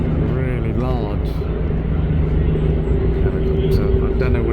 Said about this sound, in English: It's going to rise above these trees, and this helicopter, there we go